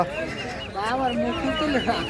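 Chickens and roosters cluck at a rural afternoon market in Bangladesh, short hen-like calls rising over someone talking and background market chatter.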